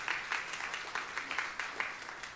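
A church congregation claps together in a steady, moderately loud ovation, the dense patter of many hands swelling in regular pulses with no voice rising above it.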